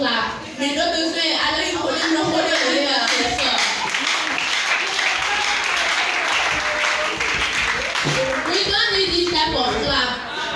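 Children at a National Children's Day celebration clap hands in a sustained, loud wave of applause lasting about ten seconds, with voices mixed in and a brief dip near the end before the clapping swells again.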